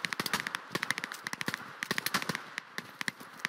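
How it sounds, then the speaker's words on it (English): Dense automatic gunfire and rapid single shots crackle nonstop in a military shooter game, with bursts overlapping at varying distances and no voices. "you can hear the amount of fire coming off of the"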